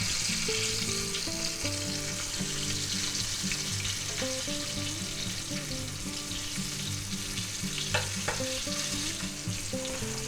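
Chicken pieces for a sweet and sour stir fry sizzle steadily in hot oil, a continuous dense hiss with occasional small clicks. Faint tonal background sounds sit underneath.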